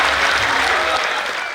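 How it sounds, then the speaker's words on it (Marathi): Audience applause opens an inauguration session of a poetry festival in Kolhapur, a dense wash of clapping that holds steady, loud and close, then eases slightly toward the end. "जोरदार टाळ्या वाजवून या कार्यक्रमाची आपण सुरुवात करतो."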